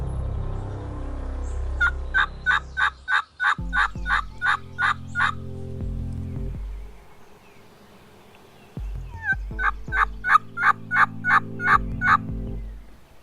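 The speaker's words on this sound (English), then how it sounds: "Every ridgetop seemed like it had gobblers on it" Wild turkey gobblers gobble in Iowa woods, rapid rattling bursts in two clear volleys, each a string of quick throaty calls, loud and fairly near, with quiet pauses between.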